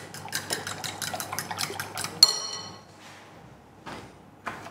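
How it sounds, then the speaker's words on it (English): A whisk pulled from a jumble of kitchen utensils: close metallic rattling and clattering, then one sharp ringing clang, followed by a quieter pause and a couple of shorter rustling clinks. "Just grab a whisk."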